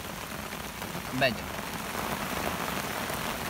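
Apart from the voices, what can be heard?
heavy rain pouring down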